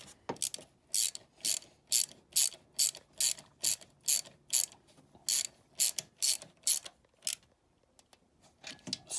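Ratchet with a swivel turning a bolt on a Mazda CX-7 valve cover, a quick run of sharp clicking strokes in steady rhythm, close and clear, slowing to a few clicks at the end.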